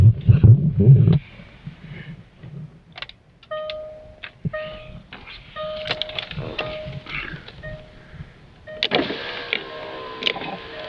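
Electric power windows on a car winding down one after another, with several whirring motor runs separated by clicks and small knocks, close and fairly clear, starting after a brief louder rumble.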